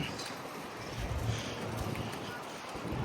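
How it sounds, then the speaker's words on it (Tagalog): Steady roaring wind buffeting outdoors on a road by a shopping mall in cold weather, a continuous broadband rush with no pauses. "Mahangin niya yung sa labas. Napakahangin."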